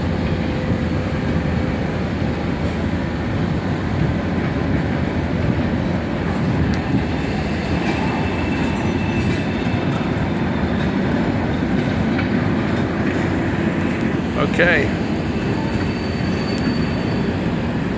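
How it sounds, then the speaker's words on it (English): Coal train pulled by an SD38-2 locomotive departs on a cold, windy afternoon, its steady loud rumble and wheel noise rolling on continuously with faint squeals, while a voice briefly speaks once. "train leaving to go get a load of coal."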